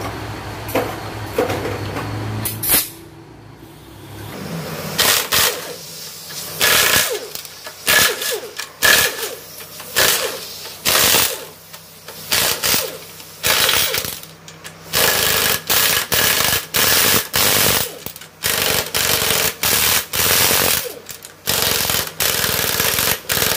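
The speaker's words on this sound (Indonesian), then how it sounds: "Ini dibuka dulu nih baut 12 nya sekeliling." A wrench working loose the 12 mm bolts around a Toyota Corolla Altis 2000cc transmission during an overhaul, heard as loud, close, repeated ratcheting and metallic scraping bursts with short pauses between them.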